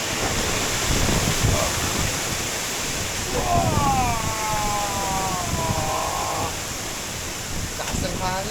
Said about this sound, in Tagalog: Lakas ng hangin mga man.